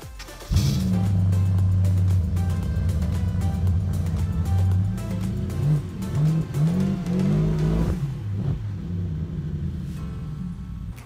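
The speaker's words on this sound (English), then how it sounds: "I think he modified the exhaust, which I'll turn on and I'll show you." A BMW 750i with a 400-horsepower V8 and a modified exhaust, loud and close, cranks over and starts, then settles into a deep idle broken by several throaty revs.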